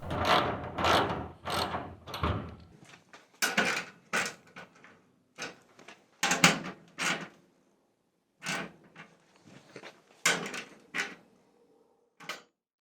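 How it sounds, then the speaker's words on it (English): Screws on buckled garage door panels being tightened a little at a time, giving intermittent ratcheting clicks and mechanical bursts separated by short pauses, close and moderately loud with no talking. "You want to go on each screw, tighten them little by little so it's evenly settled."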